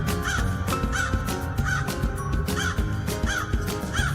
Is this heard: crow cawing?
yes